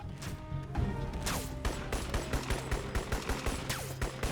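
Sniper rifle fire in Crysis comes as a dense run of loud, close gunshots with heavy low thumps and ringing tails, layered with a chaotic battle din.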